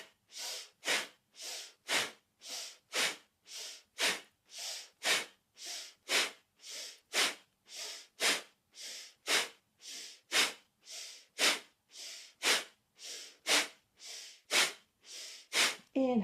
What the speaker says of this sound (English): we're breathing powerfully, we're moving powerfully